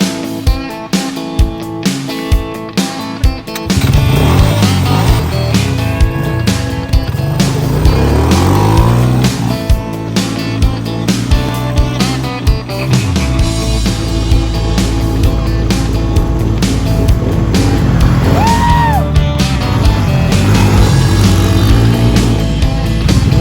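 Loud engines of a Yamaha 225 and a Honda 250 SX three-wheeler revving and roaring along an off-road trail, with throttle swells and gear changes, close and continuous throughout.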